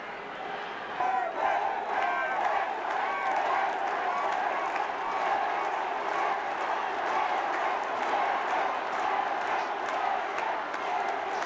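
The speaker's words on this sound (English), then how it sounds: "the Limerick crowd just down in front of me furious" An angry Limerick crowd at a 2001 All-Ireland hurling quarter-final roars in a sustained, broad wall of shouting and jeering that swells slightly near the start and holds steady.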